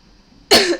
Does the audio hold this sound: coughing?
yes